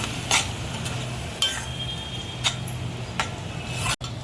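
Gentle sizzling in a pan with a few spoon scrapes stirring a thick ground onion-tomato masala, steady and close, no voices.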